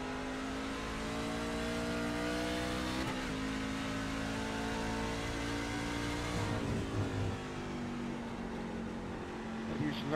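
A NASCAR truck engine in the iRacing simulator at Sonoma drones loudly and continuously, its pitch rising and falling with gear changes and throttle as other trucks race close by.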